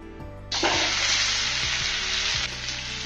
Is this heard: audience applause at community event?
no